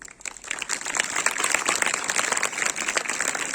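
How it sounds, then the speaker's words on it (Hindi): A room full of people at a school annual inspection event applauds steadily, dense clapping swelling quickly and holding at an even level throughout. "बहुत जोरदार तालियां ऑनरेबल मैम के लिए"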